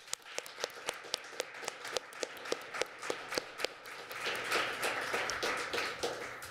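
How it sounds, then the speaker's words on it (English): Applause from the audience at a government housing policy briefing: scattered individual claps at first, building into fuller, denser clapping toward the end, moderately loud and fairly close. "So let's give them a warm applause."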